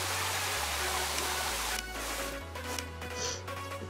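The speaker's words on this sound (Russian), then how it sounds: "тут иногда остается глюк, что звуки душ остаются" A lingering shower sound glitch in the video game Star Stable Online: steady running-water hiss loops on under low, stepping background music tones with no voices.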